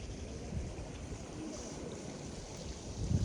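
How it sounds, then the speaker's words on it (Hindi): Rising flood water in a flood-hit Garo village area of Karbi Anglong flows with a steady broadband rush, steady and moderately loud, with wind noise buffeting the microphone near the end. "अभी फ़िलहाल ये देखो पानी का स्रोत किस तरीके से बढ़ रहा है"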